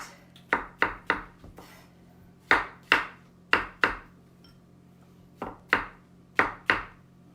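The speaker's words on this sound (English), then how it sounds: "We're going to cut the mushrooms, white mushrooms." A knife slices white mushrooms steadily on a cutting board, irregular clusters of crisp thuds, close and clear with a low hum behind.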